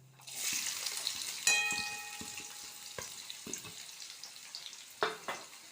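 Fennel seeds, green chili and large onion hitting hot oil in a pan, a soft steady sizzle with scattered clicks and stirring scrapes, fairly quiet and close.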